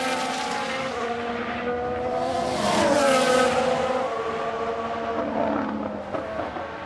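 A Ferrari Formula 1 race car in F1 Manager 22 screams past with a high, tonal engine note that climbs and shifts pitch as it nears and passes. Other cars drone steadily in the background.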